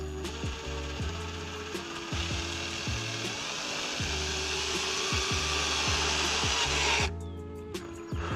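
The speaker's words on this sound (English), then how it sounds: "So let's go ahead and start drilling" A power drill bores a hole into a car supercharger housing for a whine mod, a steady whirring motor with rhythmic pulsing under it, close and fairly loud, cutting off abruptly near the end.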